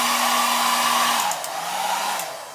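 A heat blower runs continuously and loudly near a Samsung Galaxy Note 2 screen being warmed for glass replacement, its steady rushing whine dropping in pitch partway through.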